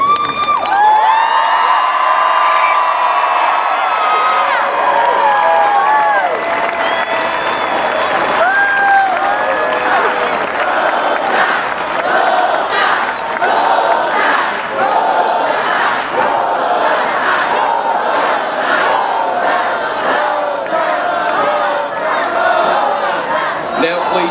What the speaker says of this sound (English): please join me in a round of applause as we unveil this new mark in Alabama football history.